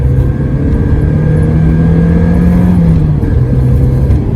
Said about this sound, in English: look, I'm flooring it right now